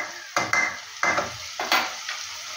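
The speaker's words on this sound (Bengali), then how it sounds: "দিয়ে একটু ভেজে তারপর কষিয়ে নেব।" Ground spices (cumin, coriander paste, turmeric, Kashmiri chilli) frying in a pan, with three or four sharp stirring scrapes and bursts of sizzle at regular intervals, close and fairly quiet.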